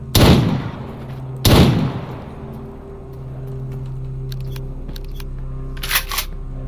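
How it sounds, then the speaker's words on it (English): Two loud, sharp gunshots ring out close by in the video game Stalker Anomaly, each followed by a long decaying echo over a low ambient hum, then fainter distant cracks and a brief burst near the end. "Some gunfire"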